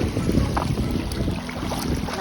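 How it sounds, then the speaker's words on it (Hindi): Steady broadband rush of a flowing mountain stream near Pari Taal lake, Bhimtal, continuous and fairly loud, with some wind buffeting the microphone. "यहाँ पे देखिए एकदम मस्त नेचुरल पानी आ रहा है"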